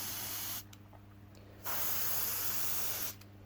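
Ozito airbrush from a hobby kit spraying paint in two steady hissing bursts, close and fairly loud, separated by a short quieter gap, over a constant low compressor hum.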